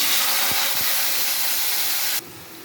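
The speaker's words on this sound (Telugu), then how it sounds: "cauliflower tomato వండుతున్నాను friends" Cauliflower, tomato and onion cooking in hot oil give off a loud, steady sizzling hiss close up, with a couple of faint low knocks early on, before the sizzle suddenly quiets.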